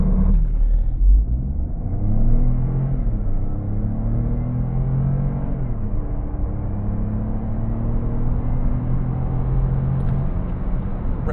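A 2025 Citroen C3 Aircross 1.2 mild hybrid with 145 HP accelerates hard at full throttle at night, its engine giving a steady low droning rumble from inside the cabin with a slowly rising whine and no talk.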